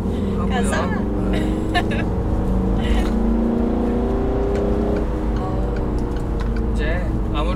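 Peugeot 308 GT diesel car driving on a course with many short corners, its engine drone rising and falling steadily as revs climb, heard from inside the cabin.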